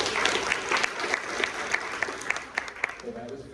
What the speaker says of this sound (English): that was very generous that you clapped before I did anything